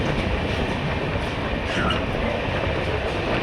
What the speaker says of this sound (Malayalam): അപ്പോഴൊക്കെ ട്രെയിൻ പെട്ടെന്ന് തന്നെ എടുത്ത് ഇവിടുന്ന്